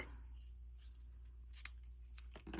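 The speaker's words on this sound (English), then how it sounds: "Grab my ribbon scissors." A few sharp snips of fabric ribbon scissors cutting through thick red ribbon, heard as brief isolated clicks late in an otherwise quiet stretch with a low steady hum underneath.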